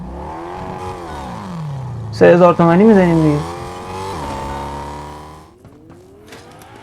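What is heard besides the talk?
car engine in video game Fortnite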